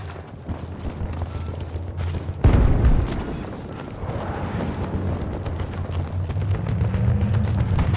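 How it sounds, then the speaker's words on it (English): A grenade explodes in the Battlefield 2042 Portal game mode, a sudden loud deep boom that rolls into a long rumbling tail over steady low game ambience. "Grenade out!"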